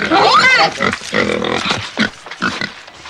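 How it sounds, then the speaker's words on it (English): A pig grunts and squeals loudly up close, a burst of snorting calls followed by shorter grunts, with someone shouting over it in a comedy scene. "Get away, you beastly pig!"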